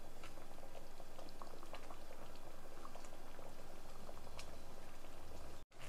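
Thick rice batter for akki kadubu cooks in a pan, bubbling and popping in a continuous close plopping that runs alone and then cuts off abruptly at the end.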